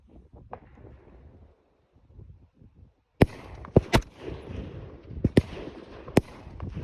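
Rifle shots at an army qualification range crack out in a quick irregular series of sharp outdoor reports, several in a row after a quieter windy stretch, with gusts buffeting the microphone.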